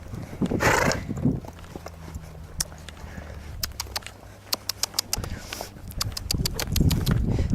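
A horse trotting, its hooves clip-clopping in crisp rhythmic strikes at close range, with scattered rustling and louder noise at the start and end.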